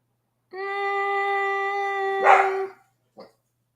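A pet dog that wants to come inside lets out a long, steady howling whine lasting about two seconds, then gives a short yip.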